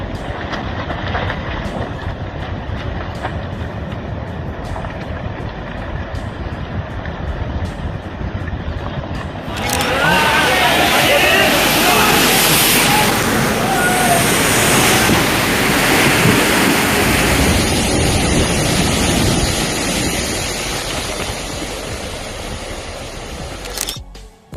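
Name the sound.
landslide collapsing into the sea in Norway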